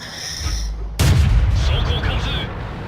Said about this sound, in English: I shoot again and manages to pierce his armor from the front